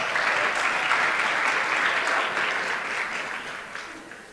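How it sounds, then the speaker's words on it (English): Applause from a crowd at a mortgage company's sales rally fills the hall as a steady, dense wash of clapping that holds for several seconds, then thins slightly toward the end. "Give yourselves a round of applause."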